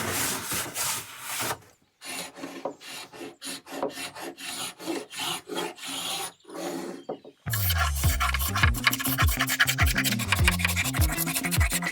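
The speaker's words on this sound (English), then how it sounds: "I did some more scraping and sanding." Old wooden furniture being scraped and sanded by hand, a run of short rasping strokes in a steady rhythm for several seconds, then a stretch of music takes over partway through.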